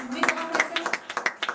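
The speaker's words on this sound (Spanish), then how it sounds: "un aplauso para Martina" Applause for a performer named Martina at a tango gathering in Purmamarca, Jujuy: a short burst of close, uneven hand claps from a small audience, with speech mixed in.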